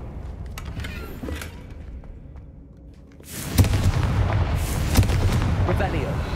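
A Confringo fire spell blast in the Hogwarts Legacy video game erupts halfway through, a loud booming burst with crackling debris that sustains after a quieter stretch of game ambience.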